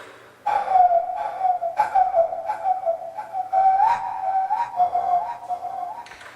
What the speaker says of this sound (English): the other thing I was doing was throat whistling